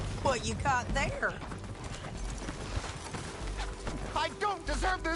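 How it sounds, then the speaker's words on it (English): Horse hooves clip-clop steadily in the background while people talk loudly over them. "Ease off on that horse, John."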